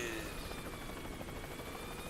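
A helicopter flies in the video game Worms W.M.D., its rotor making a steady rapid chopping buzz, faint and continuous, with no other sounds breaking in.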